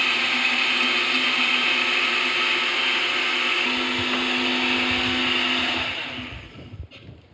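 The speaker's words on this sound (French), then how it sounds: "Et je relance mon mixeur." A kitchen blender whirring steadily as it mixes a vinaigrette seasoned with salt and pepper, running loud and continuous before spinning down to a stop near the end.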